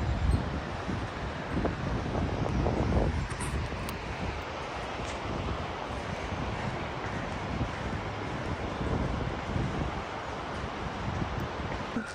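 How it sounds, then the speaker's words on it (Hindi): Steady broadband rushing of a river flowing at Nagarkot, Nepal, continuous and fairly even, with a low rumble underneath and no voices. "यहाँ पे आप देखिए पानी जो है वो बह रहा है, तो इतनी खूबसूरत आवाज़ आ रही है।"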